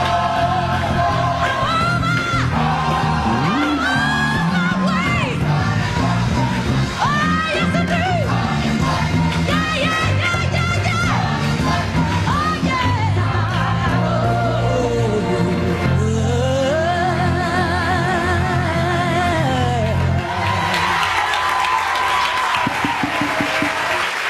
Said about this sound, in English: the applause said it all